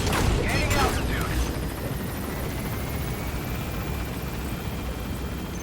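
In the game Metal Gear Solid V, a helicopter climbs away from a landing zone with a steady rotor and engine drone, a few sharp bangs near the start, and talk mixed in.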